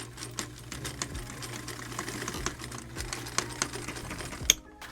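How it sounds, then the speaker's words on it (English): A sewing machine stitches a fabric patch onto a pair of polka dot pants, running in a steady fast mechanical rattle for several seconds, close and moderately loud, with a brief click near the end and no talking. "I sewed a little patch onto the pants."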